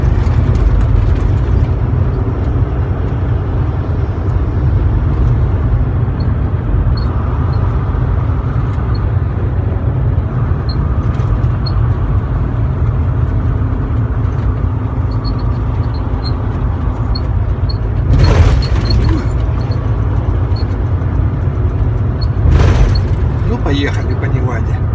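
Car drives along a road through Nevada, a loud steady road and engine roar throughout, with a voice over it and a couple of brief louder whooshes late on.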